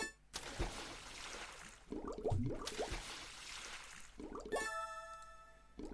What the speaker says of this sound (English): Now we have a watering can, and we can fill it with the water.